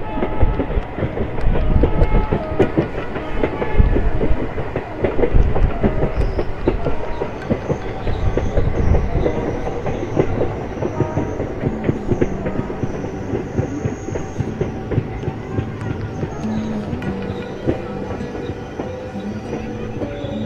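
Passenger train running on an Indian broad gauge line from Itwari to Chhindwara, a steady loud rumble with continuous clickety-clack of wheels over rail joints, heard from on board throughout.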